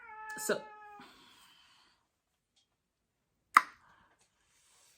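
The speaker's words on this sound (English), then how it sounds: "it's my cat." Pet cat Simba gives a clear, short meow close by, followed by soft rustling and later a sharp single knock, with a brief word spoken in between.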